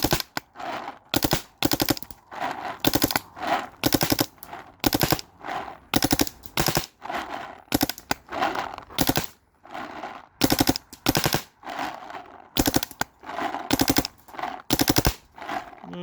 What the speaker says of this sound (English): But shooting 11 balls per second, I don't know if it's gonna keep up, but I will see if it can.